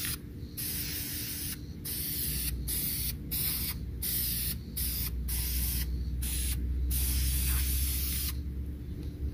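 Dupli-Color ceramic caliper enamel in red hisses from an aerosol can onto a brake caliper in a string of short and long bursts, each separated by brief silent pauses, close and steady against a low background hum.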